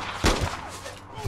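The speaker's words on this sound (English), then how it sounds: "I'm getting shot." Gunfire in the online shooter APB Reloaded, a few sharp broadband shots clustered near the start with another burst near the end, mid-distance over faint game ambience.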